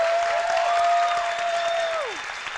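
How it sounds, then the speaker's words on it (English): An audience at a Las Vegas City Council proclamation gives a round of applause: dense, loud, sustained clapping that fades at the end, with a thin tone ringing over it. "let's give them a round of applause"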